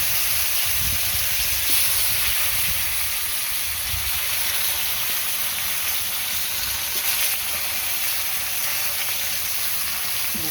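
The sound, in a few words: bitter gourd frying in pan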